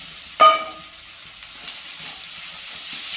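Masala frying in a pan with browned onion, a soft steady sizzle running under a short spoken remark, with a sharp clatter near the start as the spices hit the pan.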